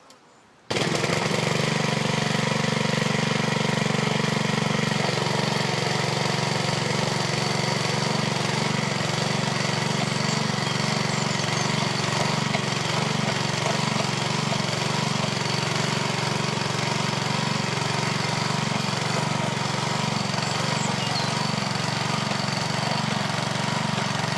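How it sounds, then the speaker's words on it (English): A tractor engine starts up and runs steadily while planting potatoes, a loud continuous mid-pitched drone with a knocking, rumbling texture that holds unchanged for over twenty seconds with no talk. "I much prefer to use a tractor, which is just a lot easier."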